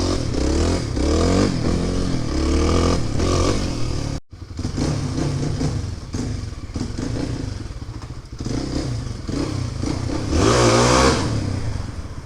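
A Kawasaki KLX300 dual sport motorcycle on Tusk DSport tires revs hard into a wheelie, with a loud engine that climbs, cuts out briefly, then pulls up again, heard close by with some rattling and thumps.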